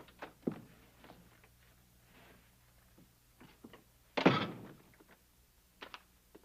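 A door opens in a quiet Western-era interior: scattered soft footsteps and knocks, then one louder thunking clatter of the door midway, followed by faint shuffling.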